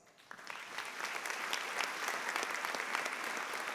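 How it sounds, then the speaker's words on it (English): Audience applause at a college commencement ceremony, steady dense clapping that builds quickly after a quiet start and holds at an even level, heard from some distance. "we recognize her with our applause"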